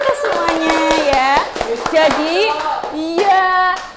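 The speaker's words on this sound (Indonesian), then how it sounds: "Apa tepuk tangan dulu untuk kita semuanya ya." A group in a classroom microteaching session claps their hands in loud, sharp, irregular bursts, and children's voices call out over the clapping.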